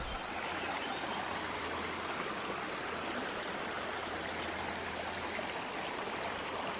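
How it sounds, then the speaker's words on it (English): A creek flows right beside a campsite near a dirt road in wild mountain country, giving a steady, close rushing of water that stays even throughout with no voices. "Here's the creek right by camp."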